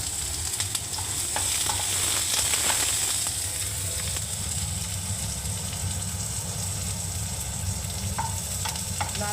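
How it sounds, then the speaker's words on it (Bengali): Onion and garlic frying in a pan until browned, a loud continuous sizzle with occasional stirring clicks, close and steady throughout, with no talking. "এবারে লাল করে ভেজে নিচ্ছি দেখুন বন্ধুরা"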